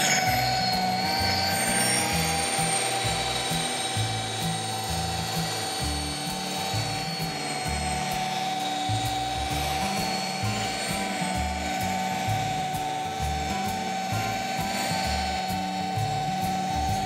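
A machine polishing pad whirs steadily against car paint, a continuous mechanical hum with rhythmic rubbing pulses and a high whine throughout, removing sanding marks.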